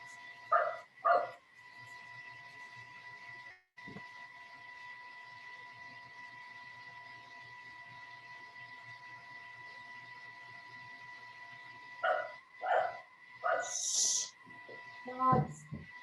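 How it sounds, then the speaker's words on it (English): Dogs bark indoors during an online sewing session, a couple of sharp bursts near the start and a cluster of yaps near the end, heard over a steady electrical hum and room tone. "Dogs."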